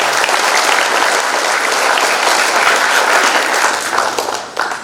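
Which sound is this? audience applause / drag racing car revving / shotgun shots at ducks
audience applause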